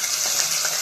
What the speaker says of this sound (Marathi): तेल आपलं गरम झालेलं आहे. त्यामध्ये आपल्याला मसाला तयार केलेला तो टाकून घ्यायचा आहे.